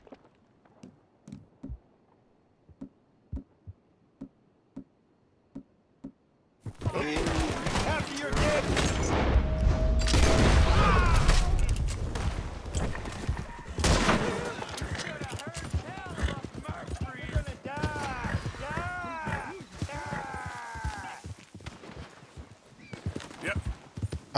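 Gunfire in Red Dead Redemption 2 after quiet hoofbeats, then a sudden loud burst of rapid shots and booming fusillade with shouting voices, followed by scattered further shots under talk.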